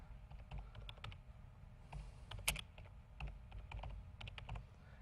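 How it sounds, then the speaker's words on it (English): Light keystrokes on a computer keyboard tap out in quick irregular bursts with short pauses between, close but quiet, including one sharper click near the middle. "so I'm going to type in"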